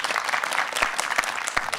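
Conference audience applauding speakers at the end of a morning colloquium session, a dense, steady patter of many hands throughout, with louder individual claps standing out.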